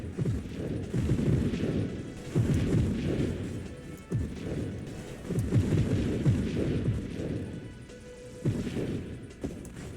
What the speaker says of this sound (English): That was a giant off-screen explosion, wasn't it?